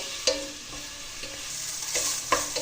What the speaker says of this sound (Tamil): போட்டு நல்லா வதக்கி கொடுத்துக்கோங்க